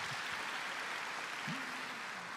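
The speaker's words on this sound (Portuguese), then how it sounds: "pode aplaudir" An audience at a youth orchestra concert applauds in a steady, dense wash of clapping, filling the hall evenly, with a faint tone or voice briefly rising beneath.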